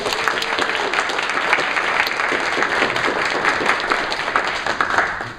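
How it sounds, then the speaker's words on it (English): Sustained applause from an improv comedy show audience on Long Island, a dense wash of many hands clapping steadily throughout, no voices standing out. "Let's give them a round of applause."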